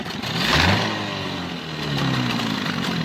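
A 1995 Mariner 25 hp outboard motor runs steadily, a close, loud mid-pitched engine drone with a slight rise and fall in revs and no talk.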